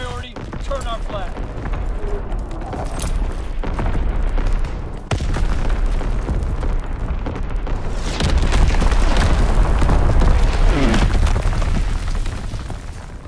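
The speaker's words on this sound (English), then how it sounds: "Incoming enemy artillery." Artillery shells landing in a WWII shooter game, a loud, continuous barrage of deep booms and blasts overlapping with gunfire, near and relentless, with game voices mixed underneath.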